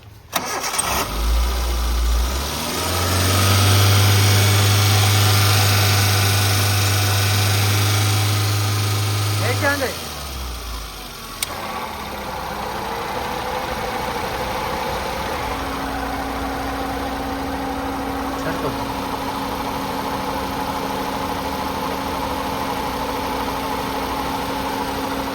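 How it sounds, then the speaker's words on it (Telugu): A 2008 Hyundai Santro Xing GLS with a 1.1-litre petrol engine cranks and starts, holds a raised rev for several seconds, then drops to a steady, quiet idle close by, with some talk in the background. "ఇంజన్ సైడ్ కూడా చూసుకోవచ్చు సార్, సైలెంట్గా ఉంది ఇంజన్."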